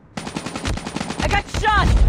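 Rapid automatic gunfire in a multiplayer video game match, a close, loud burst of quick shots followed by heavier, denser fire, with a voice cutting in briefly midway.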